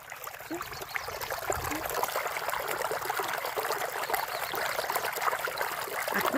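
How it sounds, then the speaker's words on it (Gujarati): Water flows steadily in a stream during the monsoon in Gir, a continuous trickling, babbling rush that stays close and even throughout, with no voices. "પાણીનો અવાજ કેટલો લાગે મીઠો."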